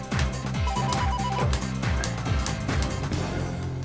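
A telephone rings with a continuous electronic trilling tone that fills the whole stretch, loud and close, with repeating warbling bell-like pulses and no voices.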